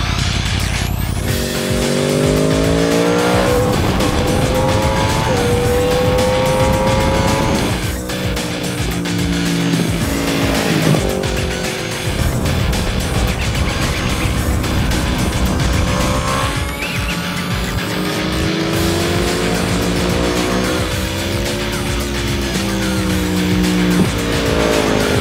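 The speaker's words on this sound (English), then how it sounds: "I think we need to get this bike out on track now and see what" 2015 Yamaha R1 motorcycles roar around the Silverstone race track, with loud, continuous engine noise rising and falling through gear changes, close by and with no talking.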